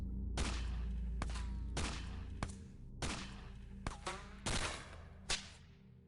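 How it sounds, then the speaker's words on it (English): Rapid bursts of automatic gunfire in the X-Com Files strategy game, several loud crackling volleys in quick succession with short gaps between them, no talking. "Auto fire to there because I should pepper the other guys with guns"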